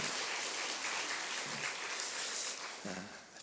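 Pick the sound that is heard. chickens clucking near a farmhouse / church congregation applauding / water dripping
church congregation applauding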